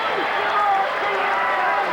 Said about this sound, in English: Doug gets a round of applause from the Indian fans as the Lions on their feet